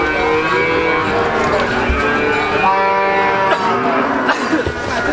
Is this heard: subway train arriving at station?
no